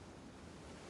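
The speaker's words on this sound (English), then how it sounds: "No, this was the sound of raging waves." Raging ocean waves from the Umineko When They Cry visual novel game, heard as a constant, even roar of surf and wind. The sound is faint and very brief, with no voices.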